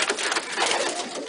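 Homing pigeons in a dimly lit loft give off a soft, continuous burbling coo, close by and steady, with a mix of overlapping bird calls and no talking.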